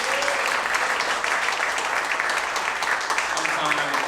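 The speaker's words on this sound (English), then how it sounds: "Please give him a round of applause." An audience at a local politics event claps, a dense steady applause filling the room throughout without pause.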